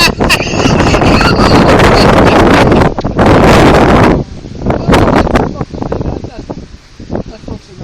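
Strong outdoor wind buffets the microphone in loud, roaring gusts that swell and drop, with a breezy rustle between them and speech heard underneath.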